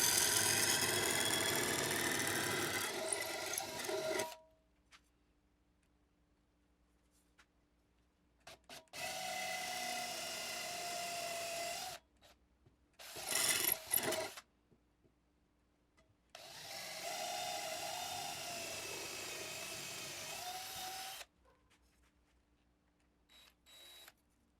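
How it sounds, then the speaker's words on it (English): A wooden guitar fret marker tip chucked in a drill and sanded, heard as several separate bursts of motor whine with quiet pauses between them. "then I chuck them up in the drill, sand the tip a little bit so it goes through my biggest hole"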